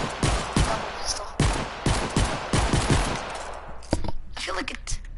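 Rapid, loud video-game pistol fire from dual-wielded handguns, with dense bursts of shots early, a few scattered reports later, and voices talking over the gunfire.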